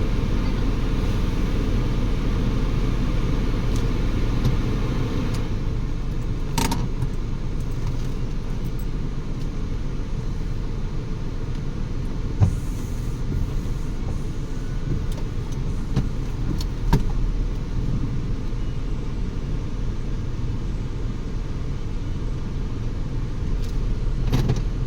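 A car engine runs steadily at idle with a low constant rumble, with a few brief clicks and knocks over it and no voices.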